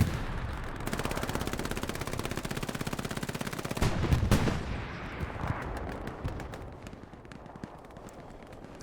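Heavy gunfire in the World War II shooter Hell Let Loose on the Kursk map, a sustained rapid machine-gun burst followed by a loud blast and scattered single shots fading into a distant rattle.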